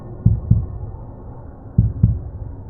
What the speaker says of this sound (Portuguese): o coração batendo forte no peito.